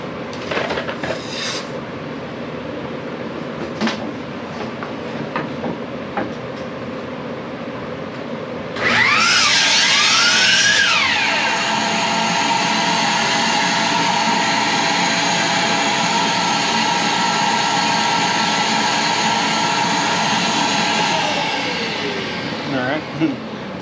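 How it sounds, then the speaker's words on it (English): A miter saw spins up and cuts through wood for a 4 ft marquee number, a loud steady whine that holds for over ten seconds before winding down, with quieter workshop handling noises beforehand. "cut it on the miter saw"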